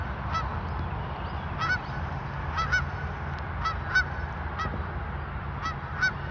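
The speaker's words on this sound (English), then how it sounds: "They're honking at us." Geese honk repeatedly from a short distance, several sharp calls spaced irregularly over a steady outdoor rumble, with no talking.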